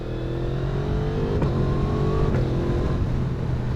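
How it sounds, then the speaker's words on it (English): A 2024 Yamaha MT-10 motorcycle with an aftermarket exhaust, heard close and loud under steady engine drone and rising revs, with a couple of sharp exhaust pops. "the pops and bangs from this exhaust are amazing"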